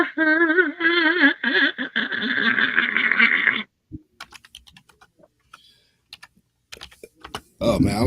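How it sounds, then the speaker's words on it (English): Someone types on a computer keyboard, a burst of rapid clicking with pauses, following a stretch of talking that overlaps at the start and returns at the end. "Everybody can hear the keyboard going off and stuff."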